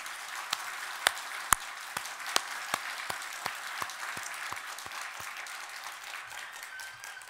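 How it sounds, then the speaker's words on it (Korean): A church congregation claps during a worship service: a steady run of separate, fairly faint claps that thin out and fade over several seconds. "하나님께 영광의 박수를 올려드리겠습니다"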